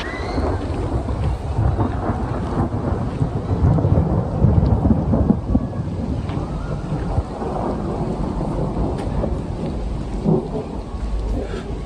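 Steady heavy rain pours outdoors throughout, with low rumbling thunder rolling underneath and swelling midway during a lightning storm; no voices.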